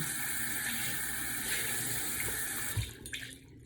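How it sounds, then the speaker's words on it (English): Tap water runs steadily into a sink while makeup brushes are rinsed, a close, continuous splashing hiss that breaks off near the end with a few brief drips and knocks. "And then if your water becomes very like dirty, rinse it out."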